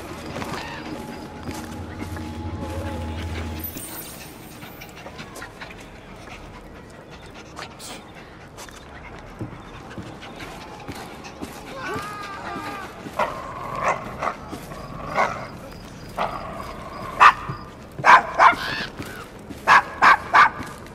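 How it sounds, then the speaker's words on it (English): A dog in the Assassin's Creed Syndicate video game pants rhythmically and then gives a series of short, close barks and yips that grow louder toward the end, mixed with game ambience and voices. "Is your dog quite all right?"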